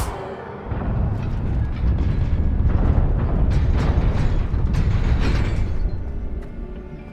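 A fire spell cast in a Harry Potter style video game erupts into a loud, sustained roaring whoosh of flame that swells after a brief quiet start and holds steady for several seconds before easing off.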